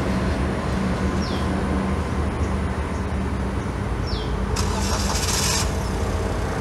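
A Perodua Axia started by passive keyless entry, its engine settling into a loud, steady idle with constant rumble, two short high chirps and a brief burst of hiss near the end.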